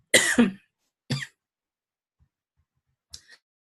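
A close, raspy double cough, then a shorter single cough, and after a pause a brief throat-clearing hack.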